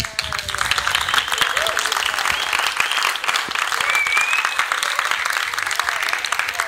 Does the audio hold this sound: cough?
no